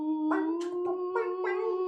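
A dog howls indoors during a board game night: one sustained, wavering howl lasting about two seconds that rises slightly in pitch, clear and close, with no talking over it.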